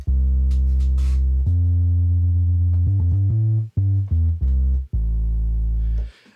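Synth sample on an MPC Live with a gentle unsynced sine-wave LFO: loud sustained low tones holding, then shifting through a series of short stepped notes before a final held tone that cuts off.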